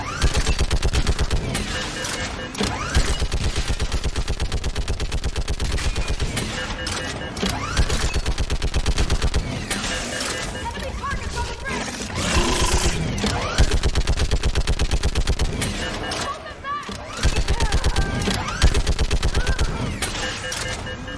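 Sustained rapid gunfire from a Mass Effect 3 battle on Insanity difficulty, with dense overlapping bursts and machine-gun fire running almost nonstop at high loudness, mixed with game music and shouted combat voices.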